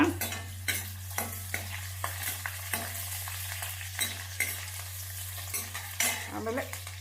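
Onion, curry leaves and green chilli fry in oil in a pan for tomato bele bath, a steady close sizzle broken by repeated scraping stirs of a spoon against the pan, with a faint constant electrical hum underneath.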